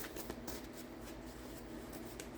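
A deck of tarot cards is shuffled in quick, papery riffles and soft flicks that repeat steadily at close range, quiet and alone without speech.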